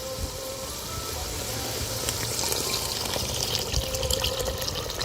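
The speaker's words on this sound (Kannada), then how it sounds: "ಇವಾಗ ನೀರು ಹಾಕ್ತೀನಿ" Water pouring into a pot of masala cooked down in oil, a continuous close rushing splash that swells slightly and holds steady for several seconds, then cuts off, no voices.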